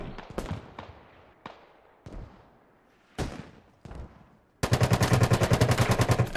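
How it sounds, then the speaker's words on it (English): In a Squad tactical shooter match, sharp gunshots crack out one by one, each with a short echoing tail. A burst of rapid automatic fire then starts up close and loud, and the blast of a grenade lands in the middle of the firefight. "And there goes a grenade."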